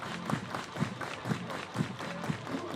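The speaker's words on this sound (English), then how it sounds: "Everybody clap your hands." A baseball crowd claps in unison, with steady rhythmic claps about twice per second over a diffuse background of stadium noise.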